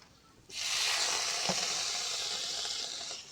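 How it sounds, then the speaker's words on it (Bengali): Chopped tomatoes hit hot oil after browned onions, bursting into a loud, sustained hiss and sizzle that begins abruptly after a quiet moment and holds steady, with one soft clink midway and no talking. "এবার টমেটোগুলোকে ভালো করে ভেজে নেব"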